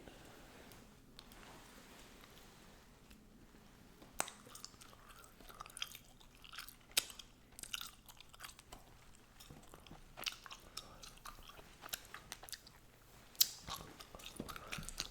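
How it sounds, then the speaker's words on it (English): Gum chewing heard up close and soft, with wet smacks and small crunches scattered irregularly over a quiet background while football trading cards are opened. "we will do that tonight while chewing on some gum, as is tradition."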